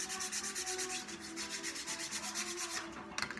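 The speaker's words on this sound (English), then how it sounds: "So I'm just going to take even a little piece of sandpaper. Just sand the backs of those." A small piece of sandpaper rubs steadily across the back of a wooden tenon part, making a close, even scratching hiss in rapid back-and-forth strokes with no pauses.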